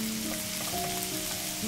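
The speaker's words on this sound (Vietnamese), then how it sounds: "Phi lên cho thơm." Minced shallots frying in oil in a pan, a continuous close sizzle and crackle with faint stirring, steady and alone for under two seconds.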